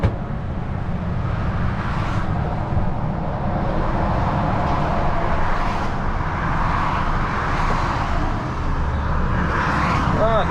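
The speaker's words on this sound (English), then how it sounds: "I'm driving to Obermorland" A car driving along a road near Darmstadt in Germany, with a steady cabin rumble and continuous road noise that holds evenly throughout without a break.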